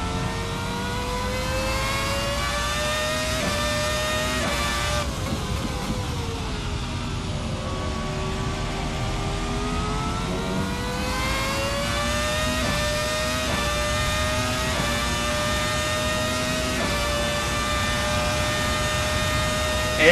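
A race car engine in a sim racing game revs hard and continuously, its pitch climbing, dipping and climbing again through gear changes, loud and close with no talk.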